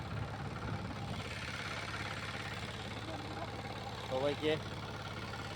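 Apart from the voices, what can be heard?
small power tiller engine running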